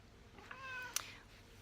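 A house cat gives a single drawn-out meow, faint and close by in a quiet room, with no talking over it.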